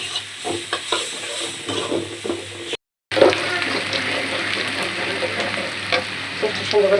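Spices fry in hot oil for a fish curry, giving a loud, steady close sizzle with stirring scrapes, cut by a brief silent gap before the hiss resumes just as strongly.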